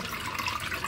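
Water from a toilet tank drains steadily during a Fluidmaster 400H-002 Performax fill valve install, a continuous close rushing and trickling with no pauses.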